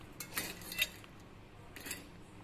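Palm candy being stirred into dry ginger and coriander coffee powder: a spoon clinks and scrapes against the vessel in light, irregular taps, close and fairly quiet, with no talking.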